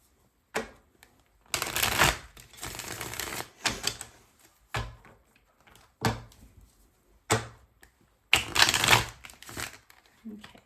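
Tarot cards being shuffled in repeated bursts, each a crisp riffling flutter lasting about a second with short pauses between, close and fairly quiet, with no talking.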